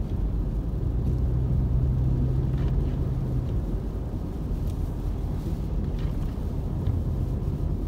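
A car drives on Highway 38 near Big Bear toward Erwin Lake in near-blizzard conditions with blowing snow, heard as a steady low rumble of engine, road and wind buffeting with faint gusting hiss and no talk.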